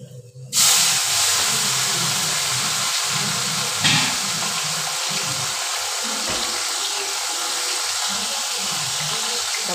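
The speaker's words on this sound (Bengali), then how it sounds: "মাছগুলো আমি ছেড়ে দিচ্ছি, মাছগুলো ভাজা হোক।" Pieces of fish sizzle loudly in hot oil in a wok, a steady broadband hiss starting abruptly and holding for about nine seconds with a brief surge near the four-second mark.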